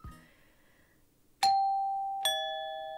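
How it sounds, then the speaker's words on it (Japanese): Two bright electronic doorbell chimes from an intercom in a horror video game, the first tone ringing out and then a second sustaining beneath it, loud and clean with only faint room noise beforehand. "インターホンの音が鳴った。"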